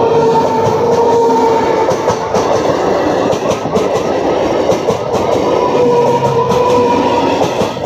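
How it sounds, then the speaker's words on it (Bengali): A train rumbles past a level crossing close by, a loud sustained roll of wheels and wagon clatter with faint voices beneath. "ট্রেন আসছে আর ক্রস করছে"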